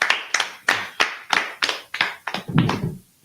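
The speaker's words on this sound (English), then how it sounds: "clap it up" Hand claps in a small group, about ten sharp, evenly spaced claps in a steady rhythm, close and fairly loud, ending with a softer thump and rustle.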